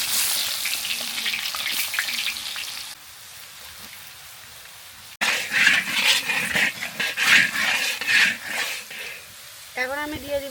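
Onions dropped into hot oil in a wok that will cook a fish bhuna, giving a sizzling, crackling fry that flares up loudly after a quieter stretch, with stirring noises.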